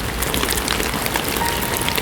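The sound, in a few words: rain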